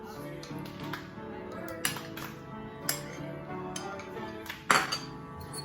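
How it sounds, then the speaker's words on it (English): Honey boba spooned into a cup of black milk tea, giving a few sharp clinks and taps of utensil on cup at irregular intervals while a person talks. "Now I'm going to add the honey boba into it."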